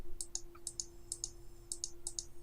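Typing on a computer keyboard: sharp, light key clicks in quick pairs and small clusters, close and fairly faint over a steady electrical hum, with no talking.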